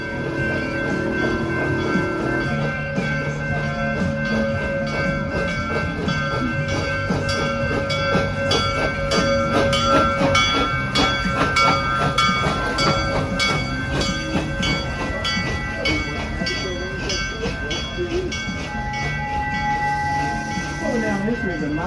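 A theme park train at Busch Gardens Tampa Bay rumbles and clatters steadily as it rolls into its Nairobi station, with rhythmic wheel clicks and a tonal hum; an announcement voice speaks over it.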